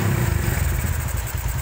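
A Honda Tiger motorcycle engine runs steadily close by, its throttle opened a little during a charging-system check. It gives a continuous low rumble with a rapid pulsing beat, holding steady throughout with no voices.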